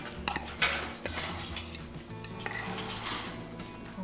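Meat being mixed with ricotta cheese in a bowl while making stuffed pasta shells, heard as close clinks and scrapes of utensil against dish in short irregular bursts over a low steady hum.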